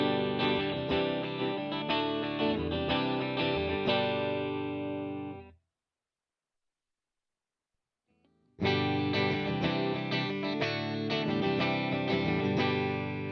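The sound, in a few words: electric guitar through spring reverb cabinet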